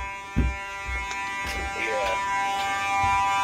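A fire alarm detector sounds during a test, giving a steady electronic buzz that holds loud throughout, with a few thumps and a voice partly over it.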